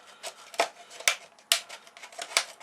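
Sharp scissors snipping through a plastic tube in an allotment, a series of crisp close cuts at irregular intervals with soft rustling between them.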